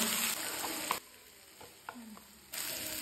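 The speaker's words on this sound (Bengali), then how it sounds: "তারপর আমি একটু নেড়ে নেবো ভালো করে।" Carrots, beans, peas and green chilli being stirred in a pan for vegetable Maggi, a quiet sizzle with a few soft scrapes and shifts of the vegetables.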